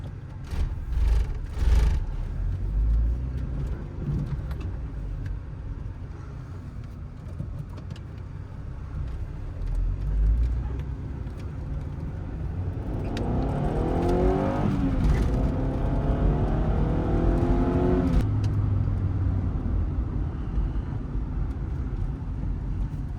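A 1993 Honda Prelude Si with a 5-speed and high mileage drives along, its engine humming steadily, then revving up in rising pulls through the gears, loud and close from inside the car.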